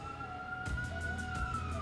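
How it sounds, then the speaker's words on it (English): An ambulance siren passes by outside, its faint wavering tones carrying steadily from a distance under a soft background hum. "Ambulance going by."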